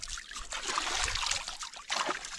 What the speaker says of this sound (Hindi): दोस्तों हम लोग यही पानी से मुंह धोते हैं